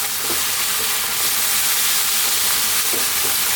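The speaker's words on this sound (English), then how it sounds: "keep it moving all the time now. Let's cook that flour." Flour cooking in a pan for steak and kidney stew is stirred steadily, giving a continuous close sizzle with soft scraping strokes and no voices.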